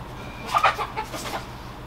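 Chickens cluck in a short burst of several quick, fairly close calls, with nothing else competing.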